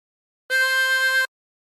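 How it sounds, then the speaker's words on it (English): A harmonica blown through hole 4 gives one steady, bright, reedy note lasting under a second, alone and clear. "And blow into 4."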